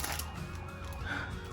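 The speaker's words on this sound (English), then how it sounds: "Siren going by." A passing emergency vehicle siren wails faintly in the distance as a steady tone over quiet room background, with no talking.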